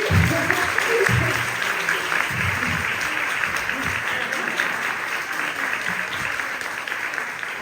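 Steady applause from an audience at a literary event, dense clapping that holds at an even level throughout with a brief murmur of voices near the start.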